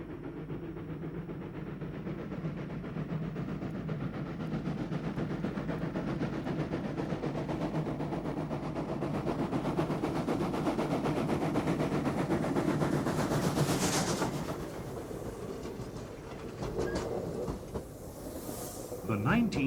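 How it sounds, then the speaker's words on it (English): A South African Class 19D steam locomotive hauls a passenger train through the Swartberg range, producing a steady rumbling roar with rail clatter. It stays loud and continuous for most of the stretch, then eases briefly and swells again near the end. "19D number 2753, leading a passenger train between Tuurwater and Barandus"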